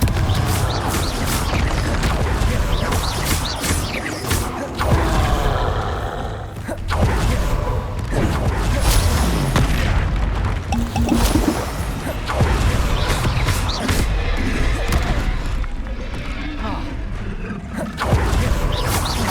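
Confringo blasting-spell explosions in the video game Hogwarts Legacy: repeated loud booms, crashes and whacks from fighting in a dense, continuous combat mix, with game music and effects layered throughout.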